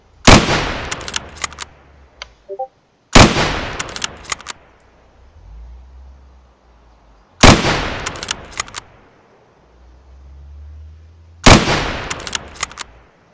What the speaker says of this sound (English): Fire a test shot.